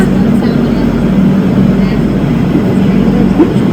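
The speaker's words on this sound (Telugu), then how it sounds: "పక్కనే ట్రైన్ చాలా నాయిస్ వస్తుంది" A loud, continuous low rumble of a train passing close by, steady throughout with no pauses.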